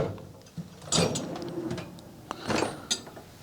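A drawer in a new tool cabinet slides open in a garage, with a few short metallic clicks and rattles of tools and sockets, close and moderately loud, no talking.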